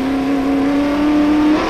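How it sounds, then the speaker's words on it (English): Touring race cars, including a BMW, racing at Amaroo Park in 1984, heard from an onboard race camera as a loud, steady engine drone holding a high pitch throughout. "Jim Richards in the BMW, and Dick Johnson with our race cam aboard, coming down to the lake corner in fourth place."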